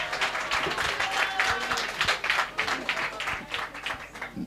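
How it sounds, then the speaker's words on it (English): An audience at a sales workshop and expo in Gugulethu applauds: steady, moderately loud clapping from many hands with crisp individual claps, sustained throughout with no speech. "A round of applause."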